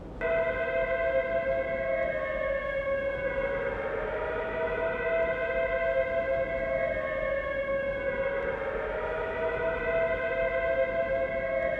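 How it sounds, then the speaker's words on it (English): Air raid sirens wail in the World War II prison camp escape game Prisoner of War, several steady tones rising and falling slowly together, loud and continuous throughout with no voices. "Have the chaps ready to move as soon as we hear those air raid sirens"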